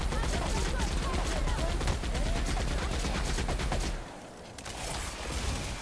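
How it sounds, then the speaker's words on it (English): Rapid sustained gunfire aimed at the player in The Outer Worlds game, dense rattling automatic shots for about four seconds, then a brief lull and sparser shots, with faint voices mixed in. "How dare you shoot at me?"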